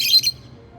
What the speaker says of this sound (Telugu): అక్కడ పక్షులు అరుస్తున్నాయి దానికి.